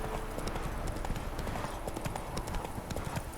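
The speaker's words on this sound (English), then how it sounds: "Oh, look at how fast Roach goes." Hooves of the horse Roach gallop in The Witcher 3 video game, a fast, even clip-clop rhythm that stays close and loud throughout.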